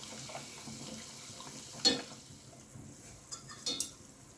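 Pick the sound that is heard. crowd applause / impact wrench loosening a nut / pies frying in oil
pies frying in oil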